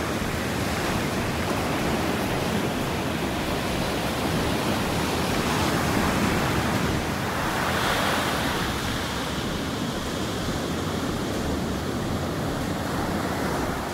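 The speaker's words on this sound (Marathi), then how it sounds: "इकडे समुद्राला पण खूप भरती आहे, त्यामुळे बाहेरपर्यंत पाणी होतं" Sea waves at high tide wash steadily onto the Goa shore, a continuous broad roar of surf with a gentle swell in the middle, close and even, with no voices.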